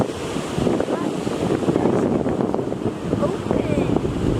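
Ocean waves wash and roar steadily on the shore at Ocean City beach, mixed with wind buffeting the microphone, while a voice talks over them.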